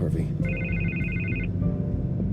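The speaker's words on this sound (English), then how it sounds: "I can't get the phone to stop ringing." A telephone rings in a Batman video game, giving one steady electronic trill followed by a fainter second ring under a continuous low rumble of game sound and voices.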